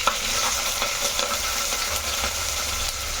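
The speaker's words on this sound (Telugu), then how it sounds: "ఇప్పుడు పచ్చిమిర్చి వేసేస్తున్నాను. అందులో ఉల్లిపాయ కూడా వేసేస్తున్నాను." Green chillies and onion fry in a hot pan, a dense steady sizzle with stirring scrapes and faint clicks, close and fairly loud, with no voices.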